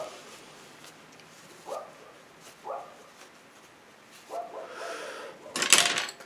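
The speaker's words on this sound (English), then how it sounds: "Now the dog started." A dog barks in a few spaced bursts, then a louder, sharper bark near the end, heard at moderate distance over a quiet outdoor background.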